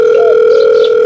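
A telephone dial tone sounds when a call is being placed, a steady, loud, unbroken hum that runs the full length without a break or any voice.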